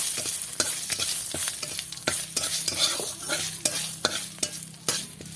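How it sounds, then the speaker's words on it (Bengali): Cumin and bay leaf crackle and sizzle in hot oil, with repeated scraping stirs at an uneven rhythm, close and steady throughout. "এবার এটা একটু ভাজা ভাজা করে নেব"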